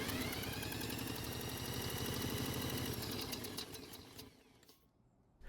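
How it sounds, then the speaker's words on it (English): A Troy-Bilt mower engine is cranked over without starting during a compression test, giving a fast, even mechanical chugging for about four seconds before it cuts off into quiet. "after spinning the engine over for about 4 seconds"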